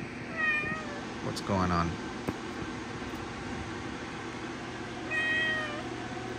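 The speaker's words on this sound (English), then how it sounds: "Sorry about that, guys, my cat." A pet cat meows a few times close by over a steady fan-like hiss from a reef tank setup, and a person speaks briefly.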